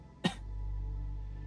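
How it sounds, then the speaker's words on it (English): A single short cough bursts out near the start, then fades into a low steady background hum. "That cough."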